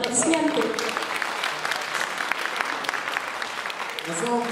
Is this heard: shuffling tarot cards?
no